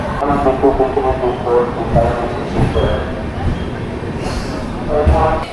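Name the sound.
train arriving and stopping at Kharagpur station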